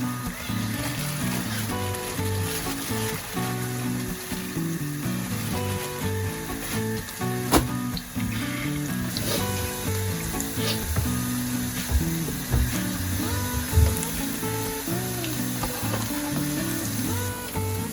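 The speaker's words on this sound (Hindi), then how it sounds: "और इसे हल्का सा गोल्डन कलर आने तक फ्राई करेंगे।" Chicken and potato pakora balls deep frying in hot oil, a continuous loud bubbling sizzle that stays even throughout, heard alongside steady background music.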